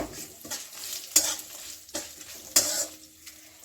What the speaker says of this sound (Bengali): সবগুলো আমি হালকা হালকা ভেজে নিব